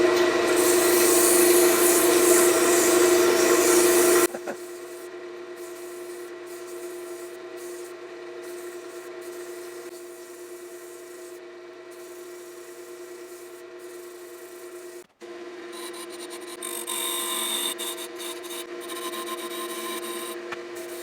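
Sandpaper rubs against an Osage orange wood honey pot spinning on a lathe, a loud continuous abrasive hiss over the motor's hum that drops suddenly to a quieter whir, briefly cuts out, then resumes with renewed rasping.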